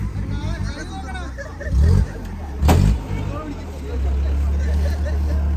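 An off-road vehicle on a rough hillside track in Wayanad growls downhill with loud engine surges, while a crowd of onlookers chatters and someone talks close by.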